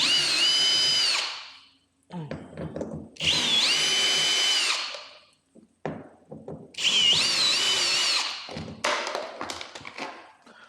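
A power drill backs out three screws from a plate on a 2022 Hobie Compass kayak, with three loud high-pitched whirring runs separated by clicks, taps and handling of the parts.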